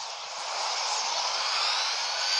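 A steady, roaring jet-like whoosh of a game spacecraft in flight, loud and continuous, slowly swelling.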